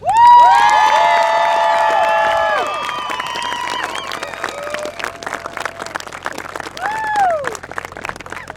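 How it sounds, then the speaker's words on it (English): Applause and cheering for armed forces members at a high school football jersey presentation event, loud at first and then thinning, with bright whistle-like tones and voices in the crowd. "Let's give a big round of applause to the members of our armed forces that are here with us today."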